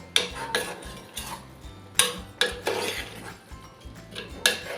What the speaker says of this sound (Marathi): आता भाजी घातल्यानंतर सर्व आपण मिक्स करून घेऊया